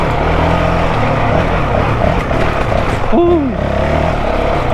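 A 2023 Honda CRF450X dirt bike fitted with a thermostat delete kit rides along trails with a loud, steady engine roar and wind. A rider briefly exclaims over the noise partway through.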